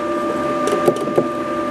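A Gerber automated cutting machine cuts a Jaguar carpet set, giving a steady mechanical hum with a constant tone and a few soft thumps and clicks from the cutting head.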